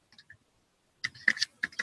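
A few light computer keyboard keystrokes at the start, a pause, then a quicker burst of clattering typing, close and alone with no talk.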